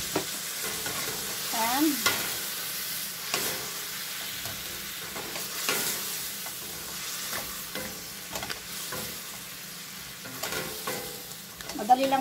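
Shrimp stir-frying in a pan with cooking wine, a steady sizzle and hiss under repeated scraping and stirring clatter, close and moderately loud throughout.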